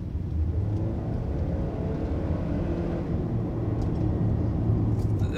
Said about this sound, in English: So now we're gonna do some acceleration, well, full throttle while rolling.